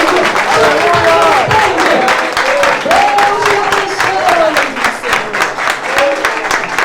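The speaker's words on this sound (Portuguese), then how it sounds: "O vivo aplaude aí." Church congregation clapping steadily in a large hall, a dense sustained wash of applause while a voice speaks over it into the microphone.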